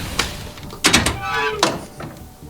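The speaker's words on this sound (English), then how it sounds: "car door thunk, like a boom, boom." A car door sound effect for a cyberpunk tabletop role-playing session: three dull, heavy thunks at uneven intervals, each with a short boomy tail, close and clear.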